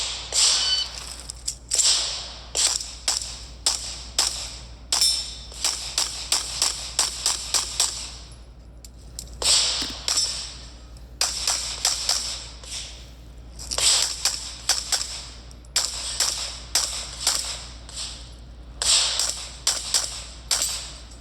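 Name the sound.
gunshots at a shooting stage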